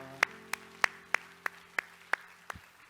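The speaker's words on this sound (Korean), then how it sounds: "우리 하나님께 영광의 박수합시다." A church congregation claps slowly, evenly spaced claps ringing out one at a time, about eight sharp hits in a steady rhythm, fairly close and clear.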